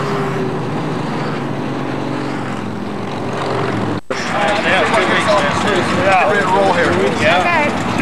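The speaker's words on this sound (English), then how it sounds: "Leading the way to our rest stop and lunch was an airplane towing a Run for the Wall" Propeller airplane towing a Run for the Wall banner at a motorcycle rally rest stop, its loud steady engine drone running throughout over crowd noise and chatter, briefly cut and then returning stronger and brighter.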